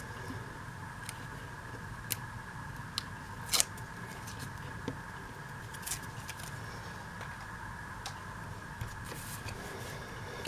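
Scissors snipping paper at a card-making workshop bench, giving a few sharp, sparse clicks and snips over a steady low room hum, fairly close.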